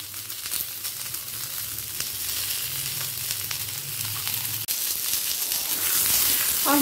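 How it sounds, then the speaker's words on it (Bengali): Potato pieces and pointed gourd fry in a pan for a Bengali pumpkin curry, a steady close sizzle with faint scraping stirs running throughout, the crackle brightening toward the end. "টুকরো করে নেওয়া আলুটাও হালকা লাল করে পটলের সাথে ভেজে নেব"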